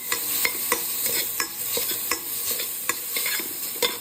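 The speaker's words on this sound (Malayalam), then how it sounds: "നെയ്യ് ഒഴിച്ചിട്ട് നമ്മൾ നേരത്തെ മാറ്റി വെച്ച തേങ്ങ പീര ഉണ്ടല്ലോ, ഇത് നമ്മൾ ഇട്ട് ജസ്റ്റ് ഒന്ന് വറുത്തെടുത്ത് മാറ്റാം" Grated coconut sizzling as it roasts in ghee in a pan, with a steady frying hiss and repeated scraping stirs, close and loud with no talk.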